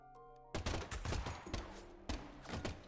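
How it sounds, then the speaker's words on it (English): Gunfire in the Deadly Premonition 2 video game: a burst of loud, sharp shots starts about half a second in, rapid overlapping cracks in several volleys through to the end, with no talk. "there's a bunch of gunshots,"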